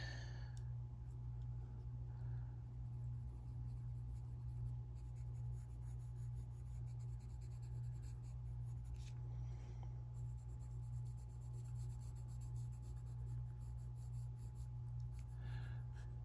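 Colored pencil scratching on a scrap of drafting film while colors are tested, a continuous soft scribbling over a steady low hum, with a few short strokes and faint breaths.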